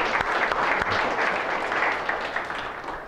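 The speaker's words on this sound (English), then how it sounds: "let's give them a big round of applause" Audience applause at a lecture-hall exam review session, a dense, steady wash of clapping that holds for a few seconds and slowly tapers.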